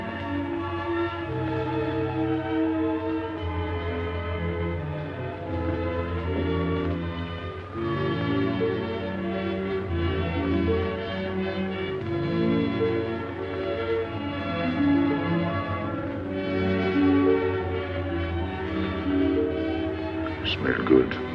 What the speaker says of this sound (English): The subway. Streamlined.